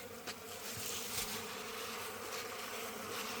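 Small bees buzz steadily around a clay pot hive, a close, continuous droning hum with no voices.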